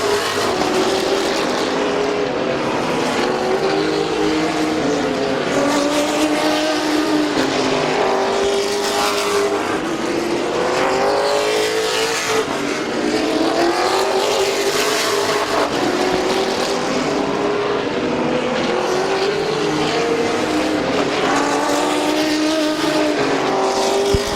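Race cars lap Midvale Speedway in a continuous loud engine roar, with pitch rising and falling as packs of cars sweep past, and no voices over it.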